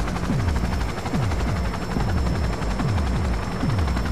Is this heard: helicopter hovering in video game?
yes